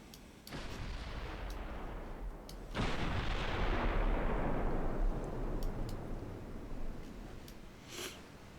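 Warship artillery salvos in a naval battle video game: a sharp blast near the start, then a bigger, heavy boom with a long rumbling decay and scattered crackles from further shots.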